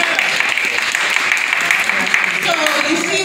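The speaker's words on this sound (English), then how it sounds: "how about a rousing applause for our wonderful musicians today" A crowd applauds steadily, with a dense patter of clapping that holds for several seconds and some voices mixed in.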